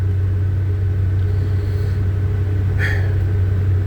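Engine of a 1978 Chevy C10 pickup truck idles after a cold start, a steady low rumble with a constant droning hum, close and continuous without talk.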